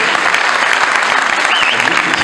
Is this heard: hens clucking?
no